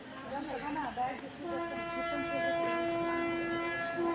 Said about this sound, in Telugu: మన జగదల్పూర్ ట్రైన్ అయితే వచ్చేసింది. యాక్చువల్లీ కిరండూరు ట్రైన్ అండి.